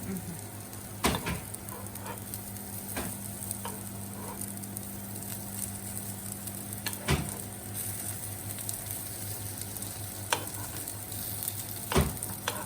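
Cutlets coated in banana flower sizzle steadily in a frying pan, a constant close crackling hiss with a few sharp clicks and taps from the pan or utensil scattered throughout.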